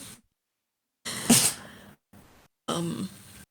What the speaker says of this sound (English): dog sneeze